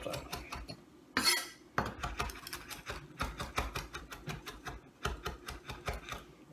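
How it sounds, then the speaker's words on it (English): Fresh garden parsley and chives rough-chopped with a knife on a board, a quick series of close, crisp knife taps in uneven bursts. "Just gonna rough chop that."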